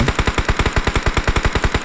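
Loud, close automatic gunfire in a video game rattles off in a fast, steady stream of rapid shots with no pauses and no talking.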